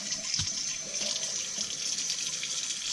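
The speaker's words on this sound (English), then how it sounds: "Just give it a nice little rinse." Tap water runs steadily to rinse a gutted trout, giving a close continuous splashing hiss for a few seconds with small knocks as the fish is handled, and no one speaks.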